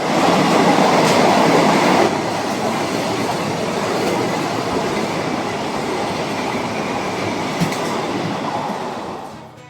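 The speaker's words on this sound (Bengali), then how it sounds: "ট্রেনের অপেক্ষায় বসে আছি, এমন সময় রাজার বেটা বন্দে ভারত যাচ্ছে।" A Vande Bharat express train passes a station platform, a loud steady rush of wheels and rail noise that stays strong throughout, a little louder at the start, with faint metallic clicks and no voices.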